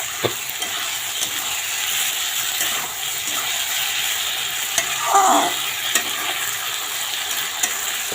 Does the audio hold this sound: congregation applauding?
no